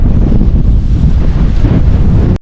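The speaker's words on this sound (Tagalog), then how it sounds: "sobrang lakas ng hangin" Strong wind blowing outdoors on an island rice field, a loud continuous roar buffeting the microphone with a surf-like rumble and no pauses or speech.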